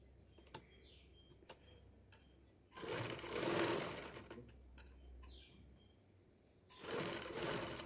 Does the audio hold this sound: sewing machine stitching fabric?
yes